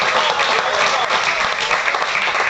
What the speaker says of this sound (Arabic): تحيه من الجمهور الحاضر